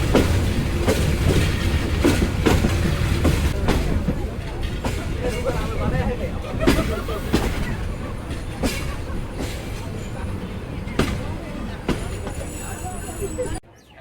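The Parabat Express, running from Dhaka to Sreemangal, rolls along in a loud, steady rumble heard from on board. Rhythmic clickety-clack wheel beats sound throughout until the noise cuts off abruptly near the end.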